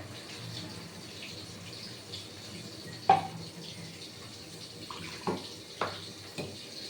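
Water is poured into a cooking pot holding pointed gourd and chilies for a cumin-spiced potol dish. The soft, quiet pouring and trickling is close, with a few light clinks and taps along the way.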